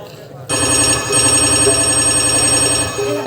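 A loud, repeating electronic ringtone starts abruptly and plays steadily with a tonal, patterned melody.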